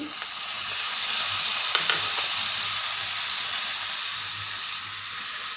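Vegetables for veg noodles sauté in a hot pan with a loud, steady sizzle and occasional soft stirring scrapes, no voices present.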